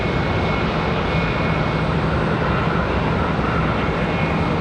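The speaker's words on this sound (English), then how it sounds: "that is going to be the One World livery for the 777." A Boeing 777 in oneworld livery arrives at Charlotte Douglas International, its engines a loud, unbroken broadband roar that stays steady and close for the whole stretch, with no talking.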